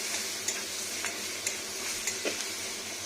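Sugar frying in a pan while cooking a vegetarian pickle-style cabbage curry, giving a steady soft sizzle with a few light stirring scrapes and taps spaced through it, close and moderately quiet, no voices.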